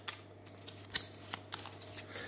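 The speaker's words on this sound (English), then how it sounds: "they've run out, so they can shuffle their deck" A deck of playing cards being shuffled during a card game: quiet, close papery riffles and flicks in short bursts over a faint steady hum.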